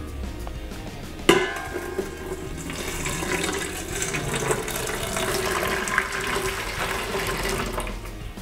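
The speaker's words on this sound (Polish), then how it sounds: "I teraz woda. Ja tu mam wrzątek" A sharp clink, then boiling water pours steadily over a metal bombilla (yerba mate straw) to clean it, with a continuous splashing stream and faint clatter of utensils nearby.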